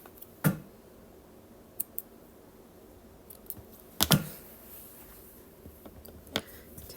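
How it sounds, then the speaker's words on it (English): Scissors snipping quilting threads at a sewing table: two sharp, close cuts a few seconds apart among small clicks and handling noises in a quiet room. "and then we're going to cut our threads"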